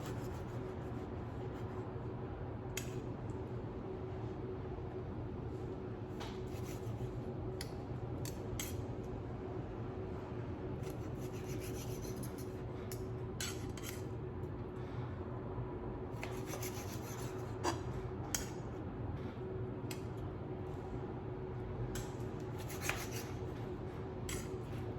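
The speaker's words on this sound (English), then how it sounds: "I'm gonna cut it into 5 slices." A knife slices through cooked duck breast on a board: quiet rasping strokes and scattered light scrapes and taps come at intervals over a steady low background hum, with no voices.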